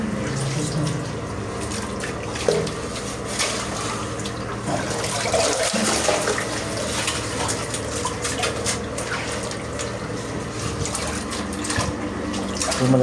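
Water runs steadily from a tap in a house under renovation, a continuous splashing hiss that persists throughout, with a brief clunk near the middle and faint background activity.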